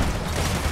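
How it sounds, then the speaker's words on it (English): Gunfire coming from two directions in a Gears of War 4 firefight, a brief, dense, loud burst of shots and impacts with no voice over it. "I'm getting shot from both angles!"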